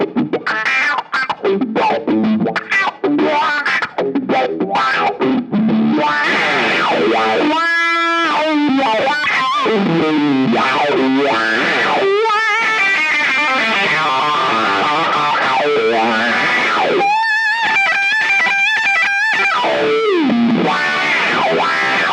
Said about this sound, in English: let's move the Q to something a little bit tighter for a more traditional wah sound